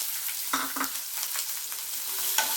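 Chopped green chillies and onions go into hot oil with roasted lentils in a pan for a cauliflower mixed-vegetable curry, and they crackle and sizzle close by, with a few short scraping bursts as they are stirred.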